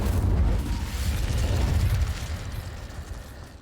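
Incendio fire spell cast in Hogwarts Legacy, a loud, low whooshing burst of flame that roars steadily for about two seconds, then tapers off.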